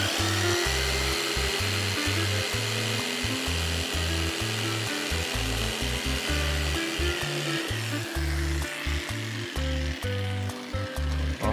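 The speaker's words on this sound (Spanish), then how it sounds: "vamos a cortar ese borde que ya lo marqué aquí" Steady power saw cutting along the edge of a recycled wooden board for a bathroom cabinet, a continuous loud grinding whine with pulsing low rumble that runs the whole time without speech.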